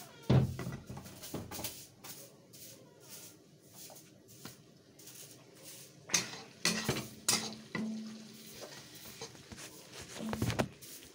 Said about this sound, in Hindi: सो गाइज अहिले लसुन हाल्दैछु हेर्नुहोस् यहाँ छ लसुन लसुन हुँदैछ गाइज